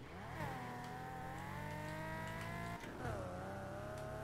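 A modified Buffalo car engine in a video game revs and sustains a whining drone, pitch sliding up and down twice, with a brief dip before climbing again.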